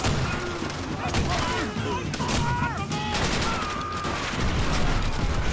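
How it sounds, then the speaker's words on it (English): Type 100 submachine gun fire in Call of Duty: World at War fills a loud, chaotic battle, with near-continuous gunfire, booms and crashes overlapping shouted in-game voices throughout. "This type 100 is not going to do the job."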